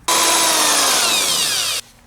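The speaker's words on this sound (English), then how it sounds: "We're going to drill out this hole here with a drill so that it will fit the diameter of this LED bulb." A power drill bores out a hole in a Crown Victoria lamp housing to fit an LED bulb, one loud continuous whine of under two seconds with a slowly falling pitch, cutting off abruptly into quiet.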